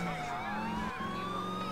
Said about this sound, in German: Ich weiß jetzt nicht, wie ich die Sirene... Ah, so kann ich sie ausmachen.